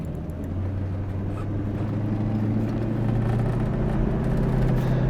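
A 1966 Ford Mustang on the road, its engine a loud steady low hum that rises slightly in pitch as the car gathers speed, with constant road and wind noise and no talking.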